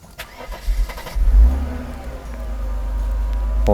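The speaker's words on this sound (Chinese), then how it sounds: "大哥来做个冷车发动，今天早上的第一次发动。" A Mercedes R129 300SL, its fuel distributor just repaired, starts from cold on the first start of the morning: a short whir of cranking, then the engine catches quickly and holds a steady, raised cold idle up close.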